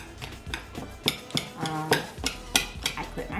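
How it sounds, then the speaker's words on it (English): A whisk mashes a banana in a bowl, knocking and scraping against the sides in quick, uneven, close-up strokes with no one talking. "I'm gonna mash the banana with a whisk"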